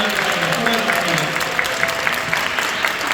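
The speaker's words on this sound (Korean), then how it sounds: "우리 함께 수고했던 우리 지체들 주변에 있으면 박수로서 참여하겠습니다." Church congregation applauding after a worship service segment, a steady, dense clapping that fills the whole stretch at even loudness with no talk over it.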